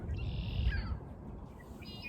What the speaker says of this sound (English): There's some red-winged blackbirds squawking away in that tree.